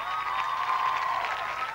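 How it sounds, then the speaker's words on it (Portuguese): Brief burst of studio audience applause on a television show, dense clapping at a steady level with a faint tone underneath. "Um grande aplauso à Rebeca."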